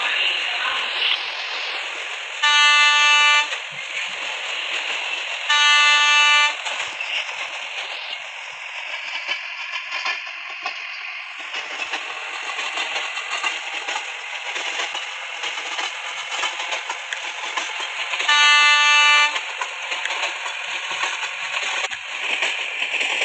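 A steady electronic drone of an Indian local train in a train simulator video game, with a rising and falling whine, broken by three short bursts of bright tonal chimes.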